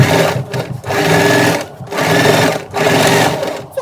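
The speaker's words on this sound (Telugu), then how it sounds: "చూడండి పిన్స్ కిందికి పెట్టడం వల్ల మిషన్ ఈజీగా వెళ్ళిపోతుంది" Sewing machine stitching box pleats on a child's frock, running loud and close in steady whirring bursts separated by brief pauses.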